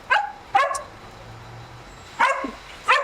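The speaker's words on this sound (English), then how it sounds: "The dog agrees." A dog gives four sharp barks in two pairs, close and loud, with quiet pauses between them.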